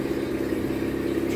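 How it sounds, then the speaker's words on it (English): Boat motor running, a steady mid-pitched engine drone with an even low hum, close and fairly loud with no talk over it. "There's the motor."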